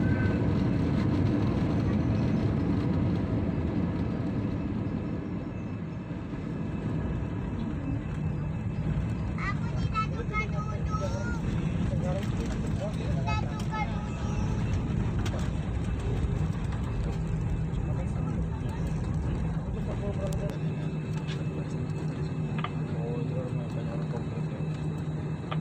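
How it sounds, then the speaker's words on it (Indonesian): Steady, loud engine rumble fills a passenger jet cabin as the plane taxis and turns at the south end of the runway after a night landing on a Jakarta–Pekanbaru flight, with faint voices mixed into the drone. "ini pesawatnya sedang berputar di penghujung runway yang"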